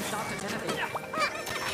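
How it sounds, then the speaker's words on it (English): Chickens clucking in a video game, a short burst of overlapping clucks and squawks, close and busy, with a voice briefly mixed in. "So many chickens!"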